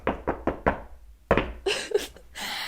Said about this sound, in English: So we knocked, as we always knock on things